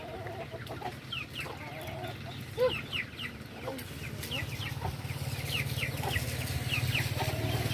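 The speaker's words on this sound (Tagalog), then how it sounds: "Maraming dito kasi manok." Chickens cluck repeatedly in short bursts over a steady low hum, with several birds calling at once from nearby and farther off.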